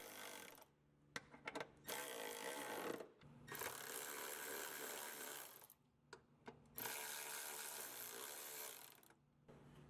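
Tool work snugging up bolts on a Volkswagen 5N Tiguan driveshaft carrier, heard as faint intermittent bursts of mechanical whirring and clicking separated by short quiet gaps.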